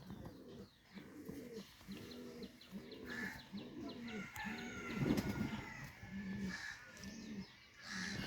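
Giribaz high-flyer pigeons coo in a steady repeating rhythm, soft throaty calls rising and falling close by, with faint background noise.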